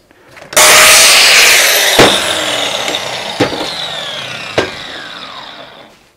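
An angle grinder cuts steel angles from a wrecked concrete mixer, a loud sustained whine with a bright metallic shriek that holds steady for several seconds, broken by a few sharp clanks, then winds down at the end.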